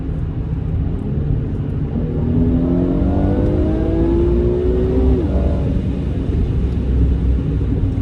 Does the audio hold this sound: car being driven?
yes